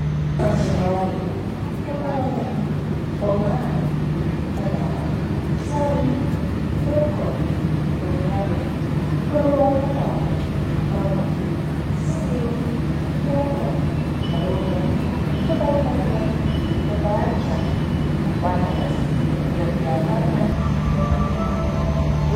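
Steady rumble of a train rolling along the rails with rhythmic clacking and creaks, and people talking over the noise throughout.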